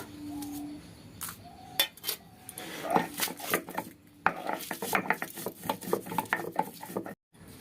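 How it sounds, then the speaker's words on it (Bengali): Dried red chillies being crushed by hand in a village kitchen for aloo dum: close, uneven knocking and scraping strikes that build into a steady rhythmic run, with a few faint bird whistles early on and no talk. "লঙ্কা গুঁড়ো করে নেব,"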